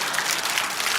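A church congregation applauds during a pastor's sermon, a brief, dense burst of many hands clapping at steady loudness with no voices over it.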